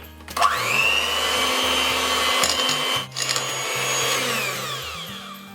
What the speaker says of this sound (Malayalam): ഞാനിത് ഈ ബീറ്റർ വെച്ച് തന്നെ ജസ്റ്റ് ഒന്ന് മിക്സ് ചെയ്യാൻ പോവാണ്.